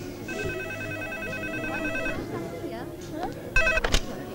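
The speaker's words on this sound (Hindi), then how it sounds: "Hey Rohan, साला एकदम सही टाइम पे फोन किया बात।" A telephone rings with a repeating electronic tone in short regular bursts, fairly clear, with voices and background movement around it and a louder clatter near the end.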